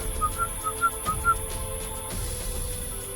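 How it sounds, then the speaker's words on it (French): A midwife toad calls at night with short, clear, bell-like single notes repeated about six times at an even pace, faint and distant over a quiet background hiss. "ce qu'on entend, c'est le crapaud accoucheur"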